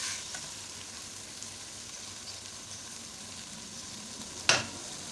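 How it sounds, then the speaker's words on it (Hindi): Mutton keema frying in a karahi gives a faint, steady sizzle throughout, broken near the end by one sharp metallic scrape or clatter of a spoon against the pan. "जब कीमे का कलर बिल्कुल ज़रा सुर्ख हो जाएगा और कीमा भुन जाएगा"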